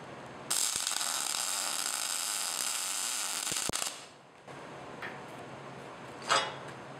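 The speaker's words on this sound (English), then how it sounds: "we'll run a weld right next to this" A MIG welder runs a bead with shielding gas, a loud, steady crackling hiss that lasts about three seconds and then cuts off abruptly, followed by a few faint clicks and knocks.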